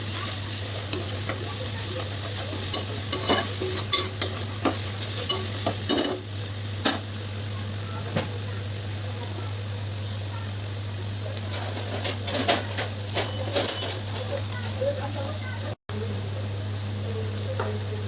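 Tomatoes with turmeric and salt are stirred in a pan for an Andhra-style fish curry, giving a steady sizzle with repeated scraping stir strokes and a constant low burner hum throughout.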